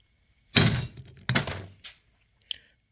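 Hammer tapping a bearing race into a wheel hub on a 1973 Mercedes 450SL R107: two solid metallic thunks about a second apart, then a lighter knock and a faint click, close and loud in an otherwise quiet space.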